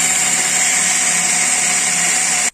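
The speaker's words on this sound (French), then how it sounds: "On va maintenant percer, tracer, usiner ces plaques." A power drill bores holes through steel plates being modified for Hammer Strength chest-press arms, producing a loud, steady high-pitched whine close by that cuts off abruptly at the end.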